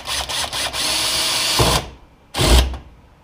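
A DeWalt cordless drill whirs in a sustained run, then stops, followed by a second short burst as a screw is driven home into wood; close and loud.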